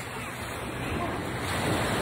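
Ocean waves at the beach in Waikiki, Honolulu, Hawaii roar as a steady, loud wash of surf, blended with wind buffeting the microphone.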